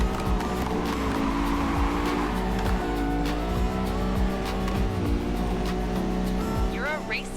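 Racing cars in the mobile game Racing Master drone with a smooth, electric-like whine under steady engine hum and occasional tire squeal, while someone talks over the gameplay.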